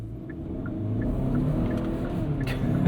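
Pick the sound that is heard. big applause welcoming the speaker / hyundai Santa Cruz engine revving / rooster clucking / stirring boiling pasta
hyundai Santa Cruz engine revving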